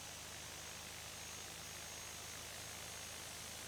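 An airliner takes off in the Tower! Simulator 3 airport game at Sint Maarten, and the engine holds a steady, even roar that stays at one level throughout, with no voices.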